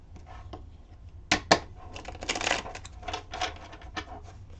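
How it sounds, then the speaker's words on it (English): Playing cards shuffled by hand during a card magic routine, with a quiet run of riffling clicks and two sharper snaps of cards near the start, then a denser fluttering patter close to the listener. "And let me shuffle again."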